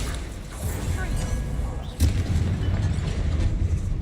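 A Bombarda blast spell in Hogwarts Legacy lands as a single deep boom midway, a heavy thump standing out over a low rumbling game background, with a voice casting spells around it.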